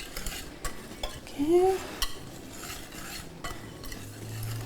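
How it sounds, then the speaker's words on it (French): Dry ingredients for an eggless chocolate cake being stirred together in a bowl, soft scraping and a few light clinks of a utensil, quiet and close, with a brief spoken word. "je vais mélanger les ingrédients secs d'abord"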